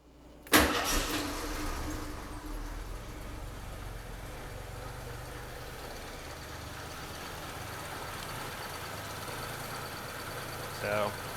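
A 1982 AMC Concord fitted with a Motorcraft 2150 carburetor and HEI ignition cranks briefly and catches, then settles into a steady, rumbling idle that carries on to the end, with a short clunk near the close.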